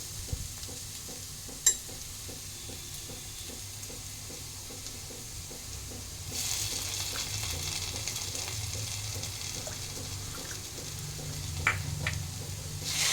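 Onion, ginger and poppy seeds frying in a pan, a soft steady sizzle that swells louder partway through, with a few faint clinks of stirring and no talking.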